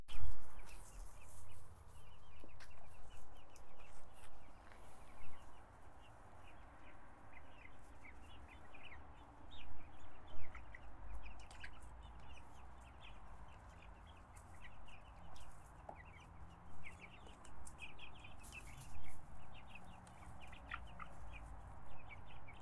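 Several chickens cluck and murmur continuously nearby, with occasional sharper calls over a soft outdoor background.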